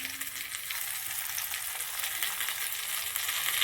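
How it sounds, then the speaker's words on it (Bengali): Pea kofta balls fry in hot oil with a dense, steady sizzle that holds at an even loudness throughout and stays close. "এটা গোল গোল করে একটু ভেজে নেব। তেলটা গরম হয়ে গেছে, দিয়ে দিচ্ছি"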